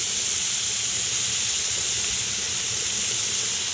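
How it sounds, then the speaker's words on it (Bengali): Shrimp fry in hot oil in a pan, giving a steady, dense sizzle and hiss that holds at an even level throughout, with no talking. "কড়াতে তেল দিয়ে ভালো করে চিংড়ি মাছটাকে ভেজে নেব।"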